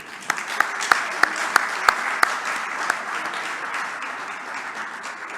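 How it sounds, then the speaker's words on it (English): A gala audience applauds in a steady wash of clapping, with several sharp, close claps or knocks standing out in a regular rhythm during the first few seconds. "Can we please give a round of applause, Jen?"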